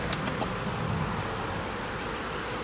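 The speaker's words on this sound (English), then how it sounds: "Well, the swarm bees" Honeybee swarm buzzing as a steady, dense, close hum of many wings that holds level throughout, with no voices.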